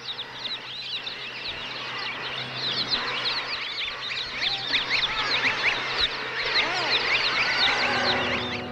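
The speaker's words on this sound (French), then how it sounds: "Les mouettes nichent sur les saillies des murs des ravins qui coupent la falaise." Gulls crowd the ledges of cliff ravins above the sea, a busy colony calling over and over in overlapping harsh cries, some near and others farther off, with a low steady background beneath.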